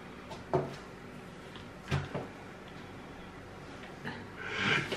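The doors of a Perfect Draft beer machine shut with a few soft, separate clunks and knocks against a quiet room background, close to the listener.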